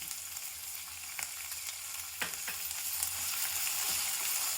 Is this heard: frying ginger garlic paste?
yes